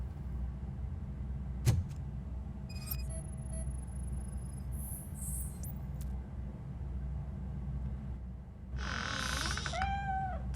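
A cat in the video game RoboCop: Rogue City gives a short, wavering meow near the end over a steady low rumbling game ambience, with scattered electronic tones and a sharp tick earlier.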